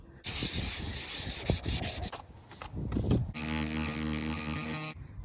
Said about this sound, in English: So I'm just gonna give it a little light sanding,